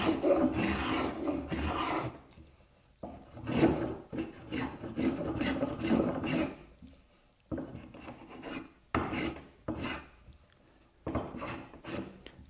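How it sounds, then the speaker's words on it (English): A spokeshave smooths the curved surface of a hand-carved wooden table in a series of close, rasping strokes, each a second or two long, separated by short pauses. "Now the smoothing is done with a spoke shave."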